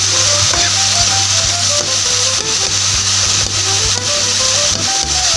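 Spinach qeema frying in a pan with steady loud sizzling throughout, joined by scraping and clinking of a spoon as it is stirred, with a constant low hum underneath.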